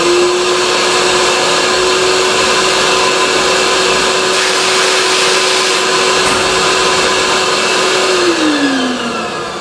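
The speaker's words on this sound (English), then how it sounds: "so we're ready to begin sandblasting" A sandblaster blasting sand onto a sheet metal box inside a glove cabinet, giving a loud, continuous, close roaring hiss over a steady motor whine that drops in pitch near the end.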